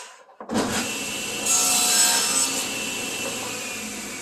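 A saw blade cuts a miter into a large wood panel, a steady close rasping whine that starts abruptly after a brief quiet moment, swells louder midway, then settles into a continuous cut until the end.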